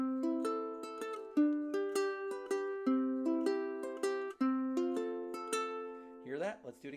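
Ukulele fingerpicking pattern for a song alternates plucked notes between the fourth and first strings, a steady repeating cycle of clear close notes, ending with a brief voice.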